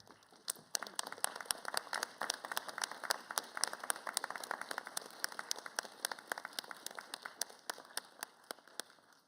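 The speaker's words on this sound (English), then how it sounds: "give them the round of applause they really deserve" Scattered, thin clapping from a modest audience at a summer doctoral hooding ceremony, individual claps distinct and crisp, steady throughout with no voices over it.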